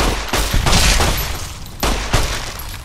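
Gunfire in the video game Fallout New Vegas comes in loud, close bursts: a rapid volley, a brief lull, then another burst of shots with booming low end.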